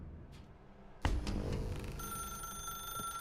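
A telephone in The Stanley Parable video game rings after a sharp thump, its steady electronic trill sustained and fairly quiet over a low room hum.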